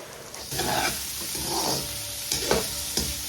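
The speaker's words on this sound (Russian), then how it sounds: "Лук поджарился слегка, отправляем морковочку." Onion and carrot sizzling and frying in a pan, with a few stirring scrapes and clatters over the steady crackle.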